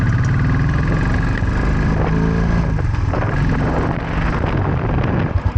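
Cafe racer motorcycle engine idling high and revving, a loud, steady close-up engine drone with rumbling low end throughout, surging slightly near the end.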